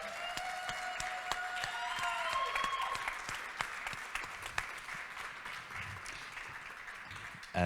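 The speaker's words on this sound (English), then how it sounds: "Can we get another round of applause for Art of Rebellion?" An audience at a film festival Q&A claps after a screening, a fairly distant and moderately loud round of applause with a few sharp individual claps. It tapers off toward the end, and some voices or cheers rise over it.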